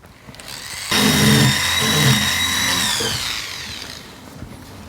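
A rotary tool with a burr enlarging a hole in a metal plate for flush-setting a round stone, whining up sharply with a high steady tone, grinding for about three seconds, then spinning down, close and loud.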